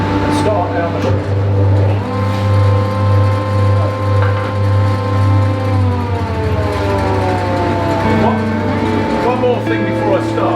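Wood planer running steadily with a loud, sustained mechanical drone and hum, close by, with dust extraction on and no pause in the noise.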